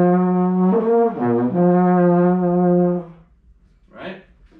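A sustained low, buzzy baritone horn tone that wavers and dips in pitch partway through, then cuts off, followed by a brief breathy rush.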